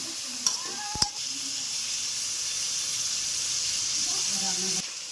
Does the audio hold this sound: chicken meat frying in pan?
yes